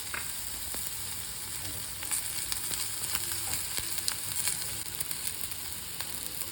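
Carrots frying and sizzling in a pan for a microgreens soup, a steady bright hiss with occasional crackles and light stirring clicks, no voices.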